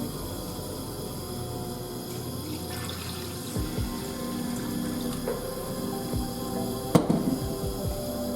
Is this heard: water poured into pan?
yes